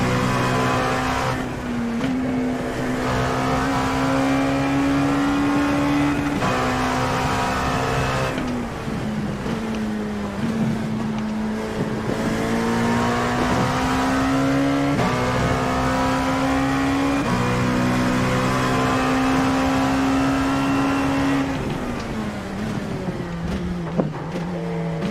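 An LMP2 race car laps Mosport (Canadian Tire Motorsport Park), its engine droning loud and constant, the pitch climbing through each gear and dropping at every shift, over long stretches of continuous driving.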